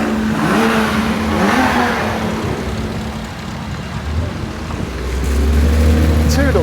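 A Honda K24 engine swapped into a Toyota Cressida at a packed racetrack event, revving loud and close with a rising then falling pitch sweep, and a deep throbbing idle toward the end amid crowd noise and voices.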